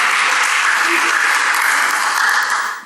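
A church audience bursts into dense, continuous applause, a loud even wash of many hands that holds steady for a few seconds before fading at the end.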